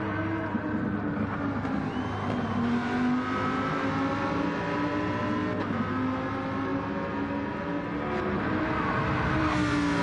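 A four-wheel drive Lamborghini Huracan races in a Gran Turismo-style Gr.4 video game event, its engine droning loud and steady with shifting pitch throughout, no voices.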